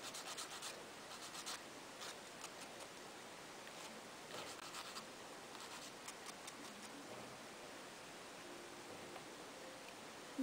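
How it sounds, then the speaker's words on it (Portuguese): Nail file rubbing back and forth on natural fingernails, a faint, close scratchy rasp in short bursts with quiet pauses. "Eu corto assim e depois eu lixo para acertar direitinho."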